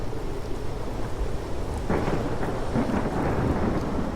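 A storm with rumbling thunder and rain, a dense, steady roar of low noise that swells around the midpoint and stays heavy with gusting wind, with no voices.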